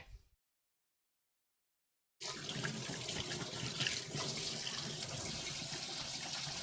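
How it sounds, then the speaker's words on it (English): Running sink tap gushing steadily as hands are washed, a continuous close splashing stream that starts abruptly after a short silence and carries on without talk. "I'm gonna go wash my hands real quick."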